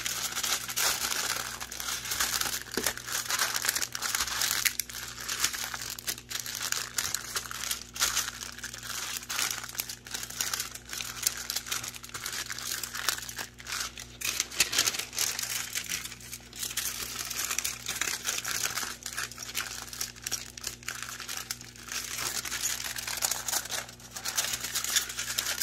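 Refrozen powdery ice chunks are handled and squeezed close up, producing continuous crisp crackling and crunching that keeps going with no talk.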